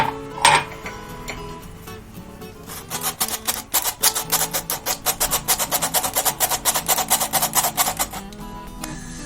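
Flour is stirred and roasted in oil in a pan: a rapid, rhythmic scraping of a utensil against the pan, repeating quickly and fairly close, with a brief clatter at the start.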